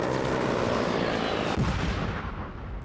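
A rolling barrage of heavy explosions and gunfire from an A-10 airstrike in the Afghanistan '11 war game, continuous and loud, with a sharp blast near the middle.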